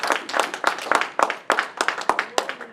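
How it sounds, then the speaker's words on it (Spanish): A church congregation claps during a Spanish-language Sunday service, with loud, uneven bursts of hand claps, close and lively, some falling in rough rhythm. "Denles aplauso al Señor"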